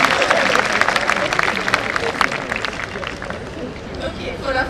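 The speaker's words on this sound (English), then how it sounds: "A small round of applause." School audience clapping, a dense burst of applause that fades somewhat, with voices and chatter mixed in.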